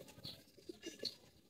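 Young pigeons in a coop give a few soft, low coos, faint and close, with a couple of light high chirps and rustles between them and no talk.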